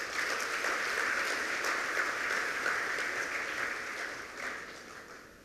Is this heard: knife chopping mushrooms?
no